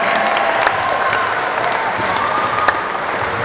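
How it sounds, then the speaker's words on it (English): An audience at a charity walk kick-off event claps in a dense, steady round of applause, with a few sharper individual claps standing out. "Let's give Cindy a big round of applause."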